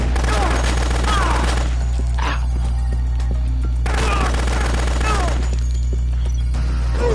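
Rapid gunfire from a second gun in the Dead Rising video game crackles in bursts across the clip, with game effects and a steady low hum underneath.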